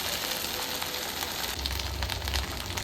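Manchurian balls dropped one by one into hot frying oil, a steady loud sizzle with a fuller bubbling surge partway through, close and without talk.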